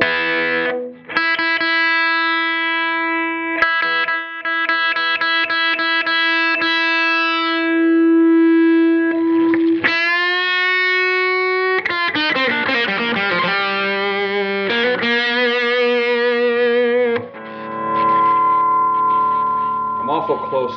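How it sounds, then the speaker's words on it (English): An overdriven electric guitar through a hot-rodded Frugal Amps Plexi 50 Marshall-style amp plays sustained notes and chords with a crunchy distorted tone, loud and close, with bends and ringing sustain. "It has a pretty classic Marshall, hot rodded Marshall sound."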